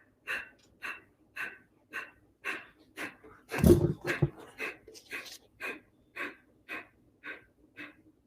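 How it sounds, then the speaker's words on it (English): Kapalabhati fire breathing: about fourteen sharp, rhythmic exhales pushed through the mouth at roughly one per half second, close and clear, with a louder rough burst partway through. "Deep breath inhale for Kapalabhati, fire breathing. Several rapid exhales through the mouth."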